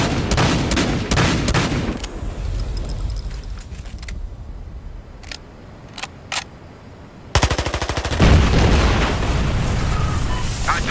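A fuel tank blowing up in Battlefield Hardline sets off a loud roaring blast with rattling bursts of automatic gunfire, then a quieter stretch of scattered shots before another heavy explosive wave hits.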